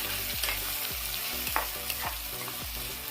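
Drumstick tomato curry fries in a hot pan while it is stirred in a quick, regular scraping rhythm over a dense sizzle, close up and without speech.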